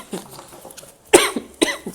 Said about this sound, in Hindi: क्या करूं, खांसी का, कितनी तो दवाई करा रही हूँ।